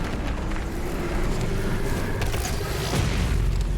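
A deep, booming explosion in the video game Doom Eternal rumbles continuously, with heavy low-end roar and crackling debris, loud and close throughout.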